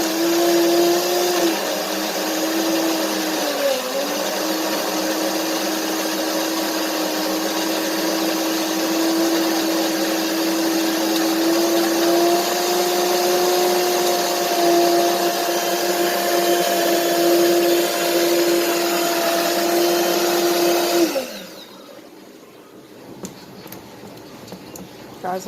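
Blender running continuously while making a blueberry pineapple smoothie, a loud steady whirring motor drone with a shifting pitch for about twenty seconds, then cutting off abruptly, leaving quiet room sound.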